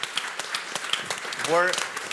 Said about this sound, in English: So a big round of applause for all of our speakers.